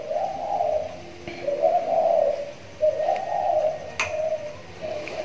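Pet spotted doves coo softly in a steady repeating pattern of low, rounded calls, with occasional faint clicks and ticks over a quiet background hiss.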